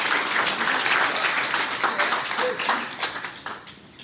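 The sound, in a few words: audience round of applause after a startup pitch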